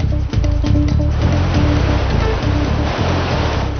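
Water splashes and rushes around a paddled boat on a scenic ride in Peru, a loud, continuous, close wash of sound with a low steady rumble underneath and no talking.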